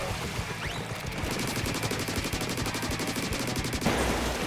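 Rapid weapon fire in the video game Splatoon 3, a dense continuous stream of fast shots with a sharper burst of rattling fire in the middle, loud and close over game background noise.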